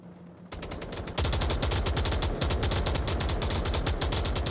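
Rapid automatic gunfire in the VR shooter Onward, starting with a brief burst and then a sustained, dense stream of close, loud shots firing in steady rhythm without pause.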